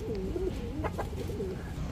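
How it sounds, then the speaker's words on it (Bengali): A pair of large Danish pigeons coo close by, soft repeated throaty calls over a low background hum, with no voices. "এখন দেখাবো বিশাল সাইজের এক জোড়া ড্যানিশ কবুতর"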